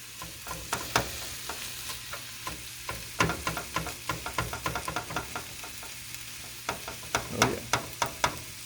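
Steak meat for a Philly cheesesteak fries in a pan with a steady low sizzle, broken by clusters of sharp scraping and tapping as it is stirred and turned; close and alone, with no voices.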